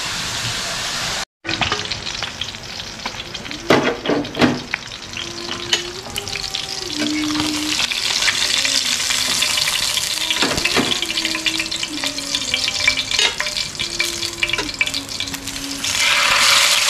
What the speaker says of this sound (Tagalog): Prito na po natin yung mga galunggong.